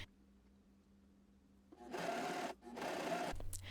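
Sewing machine running a zigzag or cover stitch along a T-shirt hem, a quiet hum followed by two bursts of fast whirring stitching separated by a short pause, close and alone.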